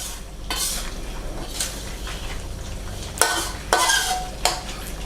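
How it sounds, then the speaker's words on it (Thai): Chicken curry gets stirred in a pot under a steady low sizzle, with several sharper scrapes and clinks of the utensil against the pot near the end, and nobody speaking. "ปัดให้เข้ากันนะครับ"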